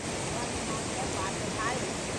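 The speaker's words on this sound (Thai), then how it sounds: "ได้ยิน แต่เสียงลำตก" A steady, dense rush of falling water from a waterfall in southern Laos roars continuously, loud and unbroken throughout.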